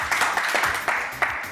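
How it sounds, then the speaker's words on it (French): A studio audience cheers a comedian with loud, close clapping, dense with individual sharp hand claps that stand out above the rest. "et on l'applaudit très fort."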